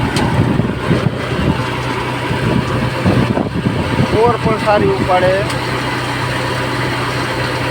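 A tractor engine idles with a steady low rumble at close range while someone talks over it throughout.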